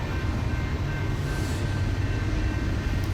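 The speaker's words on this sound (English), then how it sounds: "perfect timing with the train coming right behind me right now" A train rumbles past the Amtrak station in Kirkwood in a loud, steady roar of wheels and heavy low-end drone, with a faint high whine running through it.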